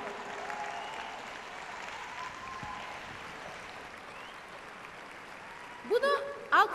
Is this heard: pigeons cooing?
no